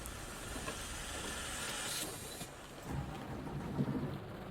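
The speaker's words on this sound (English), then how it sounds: "you can hear the rain on the roof" Simulated rain patters on a bus roof in Fernbus Simulator, a steady soft hiss of drops with faint low rumbling, quiet and continuous with no speech.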